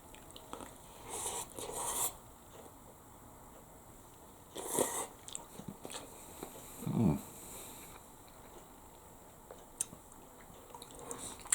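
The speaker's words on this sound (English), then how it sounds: "Still got a bit of crunch in the carrot." Crunchy carrot from a chicken noodle bowl is chewed up close in quiet bursts of soft crunching and squishing, separated by near-silent pauses.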